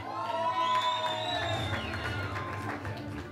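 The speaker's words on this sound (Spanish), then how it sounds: "Fuerte aplauso para Manuel Vera Borrego, dorsal número 76 del club Cuadernrunis." Crowd at an extreme trail race event cheering and clapping for a runner, with shouts and whoops over scattered applause, lively and sustained under a loud amplified announcer's voice.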